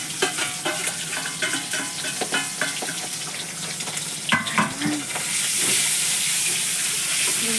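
Eggs dropped into hot oil in a wok, seasoned with salt and turmeric, sizzling and crackling up close with scattered pops and stirring clatter, then settling into a loud, steady hiss.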